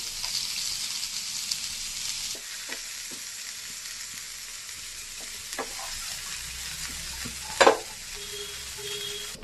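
Chopped onion, garlic and green chillies sizzle steadily in hot tempering oil for paneer Manchurian, with a few stirring clinks and one sharp metallic knock near the end.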